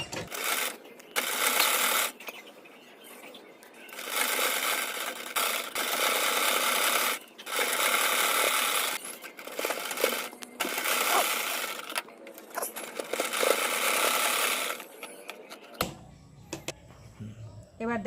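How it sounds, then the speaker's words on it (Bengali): A sewing machine stitches blouse fabric in repeated rattling bursts separated by short pauses, close and fairly quiet, with someone speaking in between. "চাপ সেলাই দিয়ে নিলাম মজবুত করার জন্য।"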